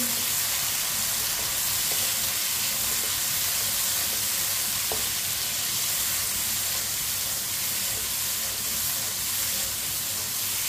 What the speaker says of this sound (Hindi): कच्चे आम डाल लेंगे, मिक्स कर लेंगे